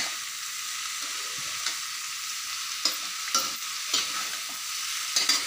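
Purple red cabbage frying in a pan is stirred and turned, giving a steady soft sizzle with a few scraping knocks of the spoon and no talk.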